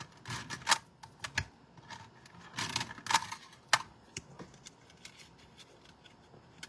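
Cardstock cut with a tool in a papercraft setting, a close, quiet run of sharp snips and clicks in irregular clusters with pauses between them, no talk.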